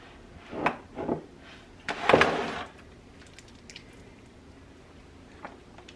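Bare hands rub butter into a raw Thanksgiving turkey, making a few soft, wet squishes and slaps in short bursts, the loudest squelch near the middle, followed by quieter faint rustles.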